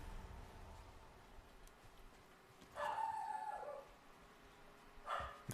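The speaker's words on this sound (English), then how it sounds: "Could hear my dog barking over there in the living room" A pet dog barks and howls from another room in a house, faint and distant, with two drawn-out bursts set apart by quiet stretches.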